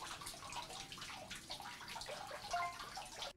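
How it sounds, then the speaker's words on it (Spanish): Water gushes from a leaking pipe at a street intersection in the Las Águilas neighbourhood of Zapopan, a fairly faint, continuous rushing and splashing with no voices. "se localiza una fuga de agua de la cual salen litros y litros del vital líquido desde hace una semana"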